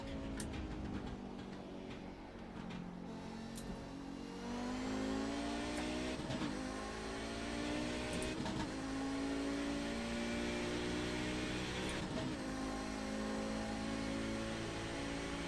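Audi 90 GTO race car in iRacing at Suzuka, its engine note dropping through repeated downshifts under braking, with sharp blips between gears and a steady, close, loud drone.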